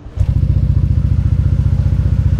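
A Yamaha NMAX Turbo scooter fitted with a Prospeed Standard racing exhaust fires up and runs loud and close, its exhaust pulsing in a rapid, even beat with a low throaty rumble.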